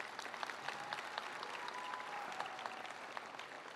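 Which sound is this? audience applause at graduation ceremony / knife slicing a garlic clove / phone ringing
audience applause at graduation ceremony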